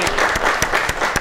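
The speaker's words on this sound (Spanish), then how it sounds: "Entonces yo quiero un aplauso para Chino." Studio audience applause on a television program, brisk loud clapping with a few sharp individual claps standing out, no talk over it.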